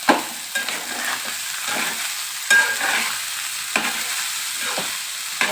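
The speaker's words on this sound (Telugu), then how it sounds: "అలా ఆయిల్ హీట్ ఎక్కిన తర్వాత అప్పుడు రైస్ తిప్పుకోండి" Rice is stirred in hot oil in a pan for egg fried rice with tomato. A spatula makes regular scraping strokes over a steady sizzle, close and fairly loud, with no voices.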